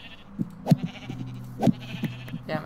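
Several sheep bleating in Minecraft, a few short wavering bleats spaced out in quick succession, fairly close and clear with no talking over them.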